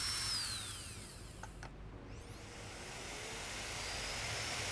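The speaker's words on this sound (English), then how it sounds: "to cut out the gas opening, we mark and drill the 4 corners using a 2 cm hole saw" Power drill fitted with a 2 cm hole saw boring the corners of a gas opening in a countertop during a villa renovation, a steady whine that pauses briefly and spins back up, fairly faint and alone.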